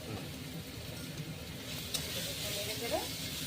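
Spices with turmeric and garlic fry in a home-kitchen pan while being stirred, a soft continuous sizzle with occasional scrapes and clinks close by.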